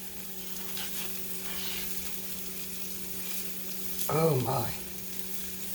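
Onions sizzle softly in a pan as they are stirred, a low, steady frying hiss with a steady hum beneath; a person briefly speaks near the end.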